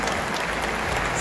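Audience clapping at a launch event for the special 60th-anniversary BH 224 Hi-Tech 220 hp tractor, a dense continuous wash of applause from a crowd, loud and even for the whole moment.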